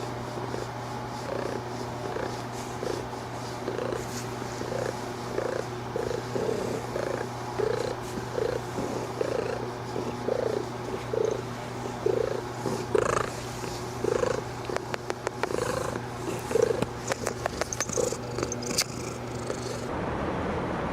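A cat purrs inside a car, a steady, close rumbling purr with rhythmic pulses from each breath, continuing throughout alongside a low engine-like hum and some faint clicking and rustling near the end.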